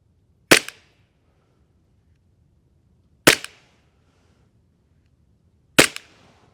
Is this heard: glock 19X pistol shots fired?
yes